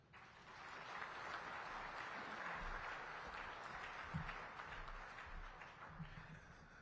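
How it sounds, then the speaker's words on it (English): Faint, steady applause from a large audience at the 2024 SADC Summit, a soft continuous wash of clapping heard from a distance with no clear individual claps. "Another round of applause for the SADC Executive Secretary, His Excellency Mr. Elias Magosi"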